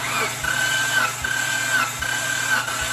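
A Mitsubishi Montero engine cranks over on the starter during a compression test, making a rhythmic, regularly pulsing whir with four even compression beats and a steady whine, close by and without talking.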